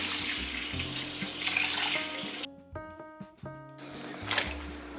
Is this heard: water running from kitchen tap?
yes